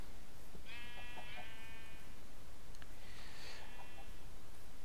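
Sheep bleating in a video game farm scene, two separate wavering bleats a couple of seconds apart, fairly close, over a quiet background hiss with no talking.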